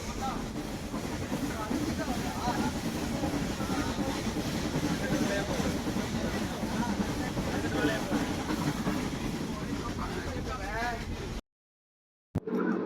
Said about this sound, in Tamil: இன்னொரு சிறப்பம்சம் என்னன்னா, இது ஒரு நீராவி இன்ஜின்.